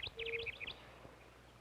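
Chirping song of a male dooryard bird such as a chipping sparrow, a quick run of high twittering notes for about half a second, fairly faint and alone with no talk.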